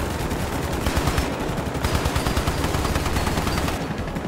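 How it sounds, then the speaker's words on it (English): Machine gun turrets fire continuously in a toy soldiers defense video game about green army men, a dense, loud, unbroken rattle of rapid shots with no talking. "Thank God for my machine gun turrets."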